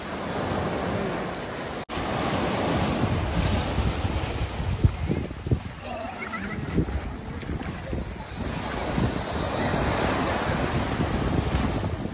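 Strong waves surge and wash continuously on Cheung Sha Beach, Lantau Island, heavy with wind buffeting the microphone, and faint voices are partly heard beneath the steady roar.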